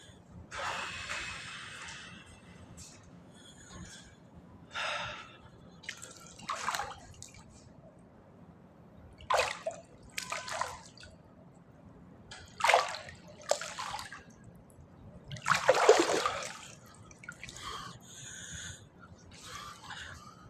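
Very cold water runs and splashes over a person bathing, arriving in short separate bursts of pouring and sloshing with quiet gaps between, close to the listener, with no talking.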